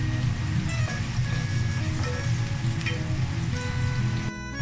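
Onions frying in oil in a pot for Bangladeshi mung dal, a steady close sizzle that runs without a break for the whole stretch and cuts off abruptly near the end.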